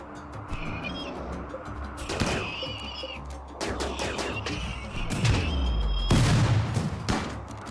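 RimWorld combat with bursts of gunfire and booming impacts, layered over a droning background; several loud hits arrive irregularly and the last is heaviest.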